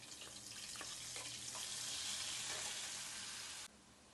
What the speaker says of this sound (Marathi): नंतर त्याला त्यामध्ये थोडं तेल टाकून आता करून घेतलेलं वाटण यामध्ये टाकून देते